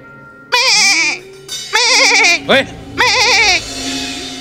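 A human voice imitates a goat bleating on a TV comedy show, giving three loud, wavering bleats in quick succession with short gaps between them.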